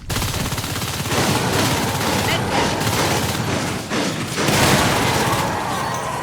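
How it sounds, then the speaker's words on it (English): Dense, sustained automatic gunfire rattles through a Natural Selection 2 firefight between Marines and alien forces, with bursts swelling and easing, overlapping weapon clatter and a lively commentator talking over it. "EBH showing us some very, very nice shooting here"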